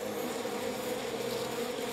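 Bees buzz in a steady, continuous drone that stays even in loudness throughout, with no voices.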